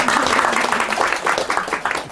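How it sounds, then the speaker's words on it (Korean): An audience at a Korean Won Buddhist scripture study session gives a short burst of steady applause, dense and close, with a voice faintly under it. "박수 한번 보내줘, 우리 목사님."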